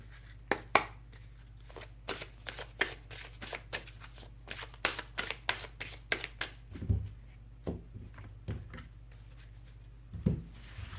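Tarot cards are shuffled and cut by hand in a series of quick, crisp riffles and slaps. They come in uneven bursts and are close and fairly loud over a faint low hum, with no talk.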